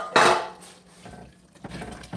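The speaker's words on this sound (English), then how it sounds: "you are going to add the liver to this that we've blended up. And just stir it around." A utensil stirring blended liver into a Bolognese ragu in a pan, a brief clatter against the pan followed by soft wet scraping and a couple of quieter knocks, close and alone.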